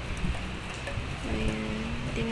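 Steady, moderate rain falls with no wind, making a continuous close hiss of drops on surfaces. Faint tonal sounds emerge briefly toward the end.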